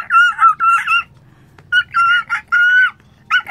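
A child from Romblon, Philippines imitates a chicken with a series of high, squawking clucks in short repeated bursts, loud and close.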